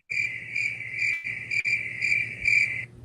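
Steady, continuous cricket chirping, a dense high trill pulsing evenly throughout with no other sounds.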